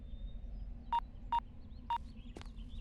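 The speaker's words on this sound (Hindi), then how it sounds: "उस ट्रैवल एजेंट मूर्ति को फोन करके पूछ ले। फोन कर।" Three short, clear telephone keypad tones sound at a steady pace as a number is dialed, followed by a faint chirp, over a low background hum with no talking.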